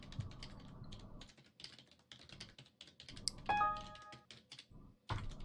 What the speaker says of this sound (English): Can you hear me clacking?